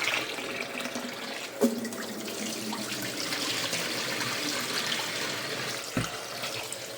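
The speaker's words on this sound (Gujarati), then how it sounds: "ગરમ પાણી હોય ને કાઢી નાખવાનું છે" Hot water pours steadily out for several seconds as it is drained off, a continuous rushing flow with a couple of light knocks.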